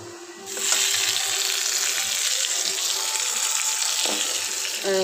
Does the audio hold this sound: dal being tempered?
yes